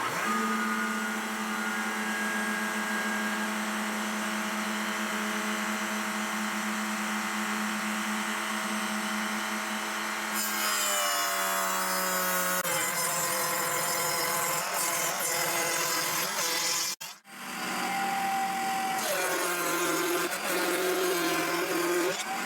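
A wood router with cheap Temu bits is turned down to a slow 12,000 RPM and cuts wood. It makes a steady, loud, high whine that shifts pitch partway through, drops out for an instant, and has no talk over it.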